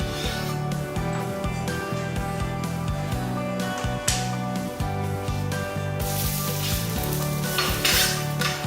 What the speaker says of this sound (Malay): masukkan kesemua sayur-sayuran ke dalam kuali untuk memasak